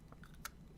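A crunchy, garlicky, peppery snack with a steak flavour is bitten and chewed up close, with one sharp crunch standing out among soft, quiet chewing.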